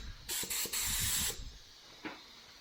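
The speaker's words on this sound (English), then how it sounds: "I'm gonna be spraying some acetone first, just to make sure that there's no oils or anything in here" A brand new paint spray gun sprays acetone in a home workshop, giving a few hard, loud hissing bursts, the longest lasting about a second, followed by a fainter short puff.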